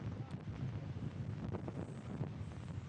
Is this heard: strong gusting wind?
yes